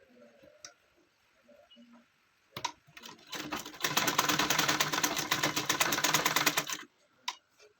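A sewing machine stitching a gown for a three-year-old child runs in one fast, steady rattling burst of about three seconds, preceded and followed by quiet handling clicks.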